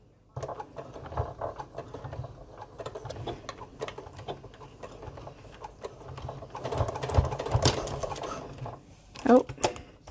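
A sewing machine stitches back and forth over a bulky seam on a tool wallet, giving stop-start mechanical whirring and ticking close by, with brief speech and handling noises in between.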